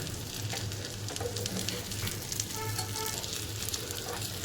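Stuffed capsicums cooking in a pan give a steady, fairly quiet sizzle that holds evenly from start to end, close by with no voices.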